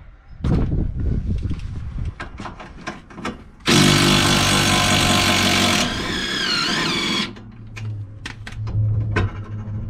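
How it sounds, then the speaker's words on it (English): A power tool undoes the two shock absorber bolts on a car, with a loud, close buzzing run that changes pitch as it works, set between clanks and rattles of metal tools. "so we can undo the shock absorber bolts, the two of them"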